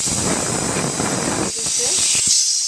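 Potatoes dropped into a pan of cooking curry in a home kitchen set off a loud, steady close sizzle and hiss, which cuts back sharply to scattered crackles and faint bubbling after a brief fade.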